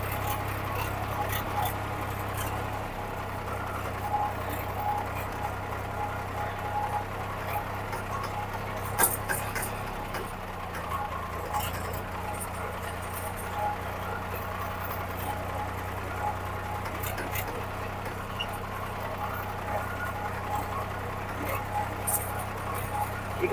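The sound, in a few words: tractor engine driving in second gear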